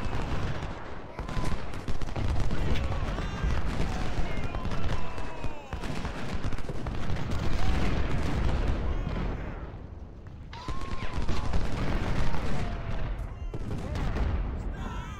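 Cannon and massed musket fire rumble from the Ultimate General: Civil War video game, with dense overlapping gunshots, booming blasts and crackling volleys continuing throughout, loud and busy.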